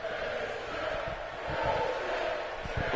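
A wrestling arena crowd in Tampa, Florida roars and cheers during a match, a broad distant wash of voices that swells midway, with muffled thuds underneath.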